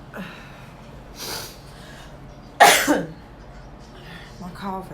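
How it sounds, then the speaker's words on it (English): A single sharp, loud cough bursts out midway, preceded and followed by quieter breathing and throat noises from one person indoors. "My cough is horrible."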